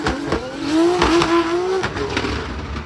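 A drift car engine with anti-lag drones and revs nearby, with sharp popping crackles from the exhaust breaking through the steady tone.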